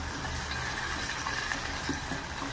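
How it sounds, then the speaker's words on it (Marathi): Tomatoes and curry leaves fry in hot oil in a pan, giving a dense, steady, close sizzle that hisses without a break. "म्हणून आपण ह्याला छान ऑइलमध्ये टमॅटोला पण फ्राय करूया. ह्या पॉईंटला मी कढीपत्त्याची थोडीशी पानं पण घालून घेत आहे."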